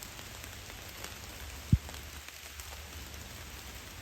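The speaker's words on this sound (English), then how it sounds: "it's raining now" Steady rain hisses softly and evenly throughout on the Appalachian Trail, with one brief low thump partway through.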